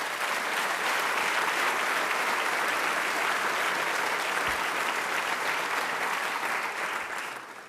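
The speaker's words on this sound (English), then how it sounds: "Let's give them all a round of applause." A crowd at a university medical school ribbon-cutting ceremony in Camden, New Jersey gives a long, dense round of applause. It holds steady and full for several seconds, then tapers off at the very end, with no speech over it.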